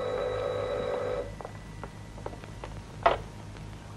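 Telephone ringing with a sustained buzzing electric bell tone that cuts off after about a second, followed by quiet scattered clicks and taps in a still room.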